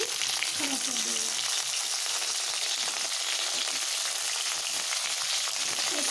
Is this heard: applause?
no